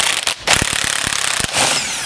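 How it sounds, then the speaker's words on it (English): Puller working a stuck sleeve off an AWD clutch housing during a teardown, giving a close, loud run of rapid mechanical rattling impacts with a brief break in the middle, with no speech. "Okay, I'm going to try a puller."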